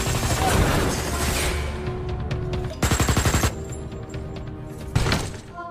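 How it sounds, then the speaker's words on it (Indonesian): Bursts of rapid gunfire crackle over a dense, rumbling action film soundtrack, with a sharp volley in the middle and another short burst near the end. "tiba-tiba beberapa orang memberondong mereka sehingga pertempuran tidak bisa dihindari"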